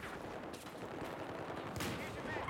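Battlefield 4 gunfire in the Siege of Shanghai map: dense, continuous rattling of shots in the distance, heard under someone speaking German throughout.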